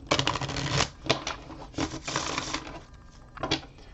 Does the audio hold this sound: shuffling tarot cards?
yes